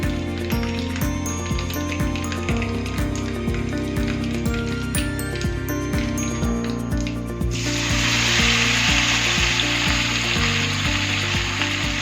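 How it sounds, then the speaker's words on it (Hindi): Black mustard seeds crackle and sizzle in hot oil, a dense continuous frying hiss with scattered pops, close and fairly loud, growing brighter and stronger in the second half. "काली सरसों डाल रही हूँ।"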